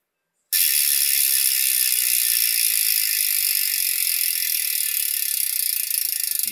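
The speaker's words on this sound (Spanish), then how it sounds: "Pues ya sabéis cómo darle más ruido a vuestro driver." A BMX rear hub driver spins freely, its ratchet pawls giving a loud, dense, continuous buzzing click that starts abruptly and runs steadily without pause, close up with no talking.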